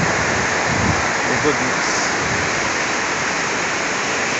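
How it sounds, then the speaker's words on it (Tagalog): Heavy storm rain pours steadily outside a market in Lipa City, a dense, continuous roar close by, with a brief exclamation from a voice. "Lakas ng ulan sa labas. Binabagyo na tayo."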